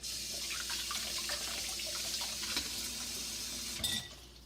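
Tap water runs steadily into a kitchen sink as a boiled egg is rinsed, a soft continuous splash that ends with a small clunk.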